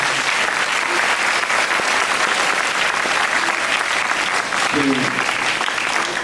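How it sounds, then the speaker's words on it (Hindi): Steady, loud applause from an audience at a school Grandparents Day event, dense clapping sustained throughout with a brief voice surfacing near the end. "उसके लिए हम तालियों के साथ उनको अभिवादन करेंगे"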